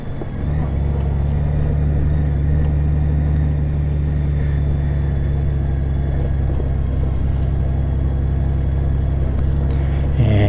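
A Honda Goldwing motorcycle rides over sand and roots, its engine a steady loud low rumble that holds evenly throughout with no speech.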